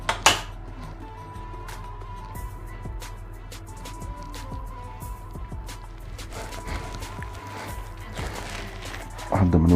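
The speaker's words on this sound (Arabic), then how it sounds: "نعجن الكلام ده كله تاني" Pizza dough being kneaded by hand in a bowl, with soft slaps and scattered clinks of the bowl, moderately close, ending in a louder knock.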